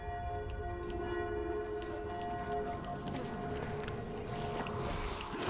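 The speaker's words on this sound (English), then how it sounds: "Must be the bell tower." A bell tower ringing in the video game Dragon Age: The Veilguard, sustained tolling tones hanging behind a busy ambient bed of movement and footsteps, moderately loud and continuous.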